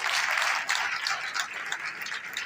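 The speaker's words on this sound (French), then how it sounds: "Ça peut s'applaudir quand même." An audience at a Longrich car-handover ceremony in Côte d'Ivoire claps in a dense, continuous burst, moderately loud and slightly easing toward the end.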